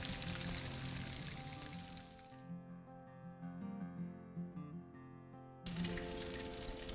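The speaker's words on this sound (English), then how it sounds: "we're not cooking the tofu, we're just browning the crust" Tofu browning in a hot frying pan, with its crust turning golden. A steady close sizzle fills the opening seconds, gives way to a quieter stretch of tonal sound, then returns strongly near the end.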